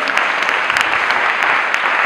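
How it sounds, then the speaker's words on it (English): Wedding guests at a white wedding applaud the couple after a prayer, with dense, loud, continuous clapping from a close crowd throughout. "Oh, clap for them."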